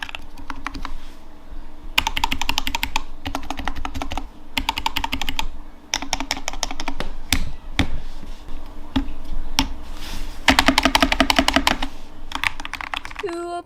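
Clacky typing on a newly built beginner mechanical keyboard with improperly installed stabilizers, quick bursts of keystrokes separated by brief pauses, close and crisp with faint speech in the background.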